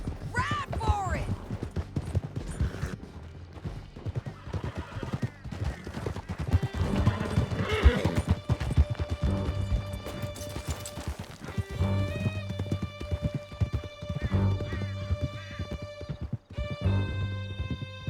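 Horses gallop through a canyon in Red Dead Redemption 2, steady hoofbeats under gunfire and shouting voices, with a horse whinnying partway through.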